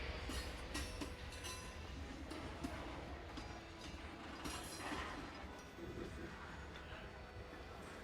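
Train in the video game Bounty Train running with a steady dense rumble and rhythmic clatter throughout, fairly quiet and continuous.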